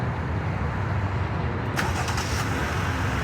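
A 2023 Jeep Gladiator Texas Trail Edition's 3.6-liter Pentastar V6 starts by remote, a broadband rush of engine noise running steadily and loud throughout, with a brief crank-like burst partway through.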